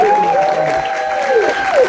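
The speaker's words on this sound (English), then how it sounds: "Give them a big round of applause." An audience at a Black Panther: Wakanda Forever music Q&A with Ryan Coogler applauds steadily throughout, with whoops and cheering rising over the clapping.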